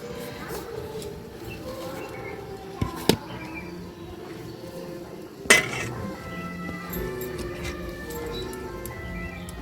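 A knife cuts a warm eggless mango cake on a plate, with soft scraping and a few sharp clinks of metal against dish in a quiet kitchen.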